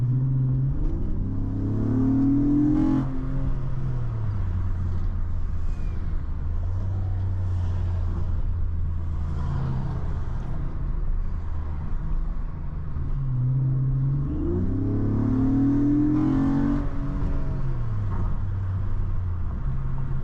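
A Honda Accord V6 runs against a Ford Mustang on the street, engines rumbling and revving in two long rising pulls with gear-change dips between them, loud low drone throughout, no talk.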